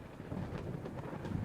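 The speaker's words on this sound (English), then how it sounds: "a violent storm ripped through the heart of Pevensey Bay, and a biting rain lashed down the whitewashed walls of the bungalow" A violent storm over Pevensey Bay sends heavy rain lashing down with a low, steady rumble of thunder, faint and distant throughout.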